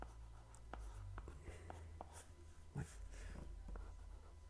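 A pen drawing a transistor circuit diagram during an electronics lecture, faint scratchy strokes and taps in a quiet room over a low hum.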